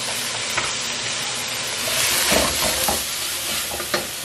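Onion and pineapple sizzle steadily in a very hot pan, a dense continuous fry with occasional stirring scrapes and pops, close and alone without voices.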